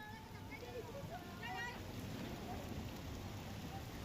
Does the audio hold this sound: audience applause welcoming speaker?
no